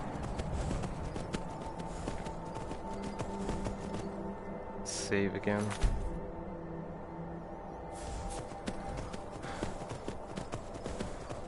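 Horse hooves clip-clopping at a gallop in Skyrim VR, a steady rapid rhythm of hoofbeats running most of the way, with a person speaking briefly over them.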